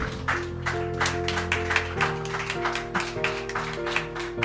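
A church congregation claps steadily in rhythm over sustained organ or keyboard chords, the loud claps repeating about twice per second with no voices over them.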